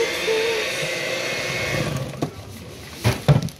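Cake batter being mixed gives a steady, close whirring drone for about two seconds, then fades into a few scattered knocks and clatters.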